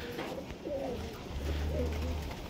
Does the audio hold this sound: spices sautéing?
no